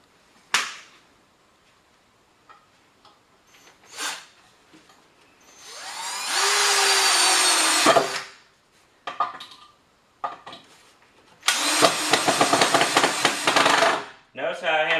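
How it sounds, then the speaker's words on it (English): A power drill bores into a wall for mounting hardware, with two sustained loud whirring bursts separated by clicks, taps and handling knocks, heard close up with no talking. "So now I'm going to go ahead and start my drilling for one side."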